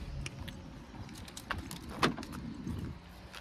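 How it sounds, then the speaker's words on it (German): Car keys jangling near a parked car, a few light metallic clinks and rattles over a low background rumble, with no talking. "wo ist mein Autoschlüssel?"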